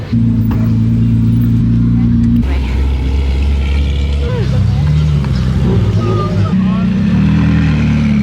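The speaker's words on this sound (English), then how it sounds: "Check out the new GT3 RS just pulling in here." A new Porsche GT3 RS sports car pulls in at a car gathering at Bicester, its engine note loud and close, shifting pitch as it moves, with a voice talking over it.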